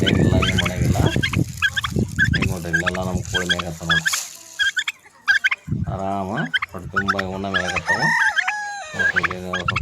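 Loud, busy farmyard poultry calls from chickens and turkeys, with clucking chickens and repeated turkey gobbling, nearly continuous with brief pauses.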